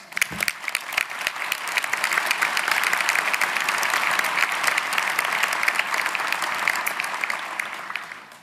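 An audience at a political campaign event applauds the candidate's family, a steady, full round of clapping that swells and holds for several seconds before tapering off, with no talk over it.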